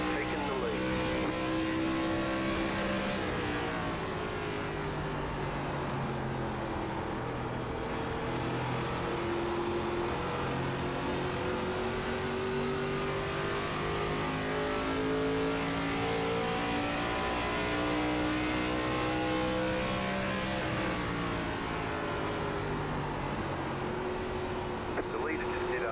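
Race car engines roar continuously through an ARCA race at Gateway in the iRacing sim, with pitch rising and falling as cars accelerate and lift, while a spotter's voice talks over the sustained engine drone.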